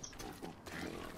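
Brief grunting oinks from a pig in Don't Starve Together, a short rough snort or two over soft game background noise.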